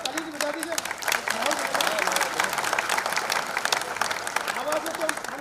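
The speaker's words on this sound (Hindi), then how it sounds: "ममता जी को जोरदार तालियां, तो ताली की बजा दीजिए।" A crowd at a music event applauds loudly and continuously, dense clapping with cheers, while someone talks over it through a microphone.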